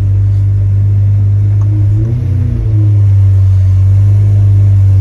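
Mercedes car engine heard from close inside, a loud droning rumble that swells briefly as the engine picks up, then settles back to a steady hum.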